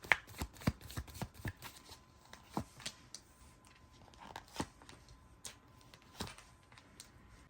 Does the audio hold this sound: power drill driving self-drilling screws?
no